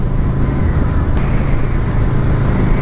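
Honda VFR 800 motorcycle fitted with an SC Project exhaust, a steady, loud engine rumble that holds even and dense throughout, with no speech over it.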